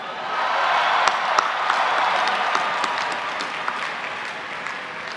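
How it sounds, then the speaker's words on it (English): Master's engineering graduates at a Georgia Tech spring commencement ceremony applaud in a large hall, a broad, continuous wash of clapping with crowd noise underneath and scattered sharper claps standing out. "Candidates for Master of Science degrees in the College of Engineering, please rise, cheer, and make some noise."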